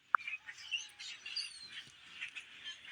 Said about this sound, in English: All these birds.